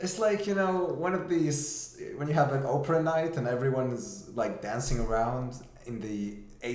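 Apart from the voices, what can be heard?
No distinct noise like a dog, phone or traffic.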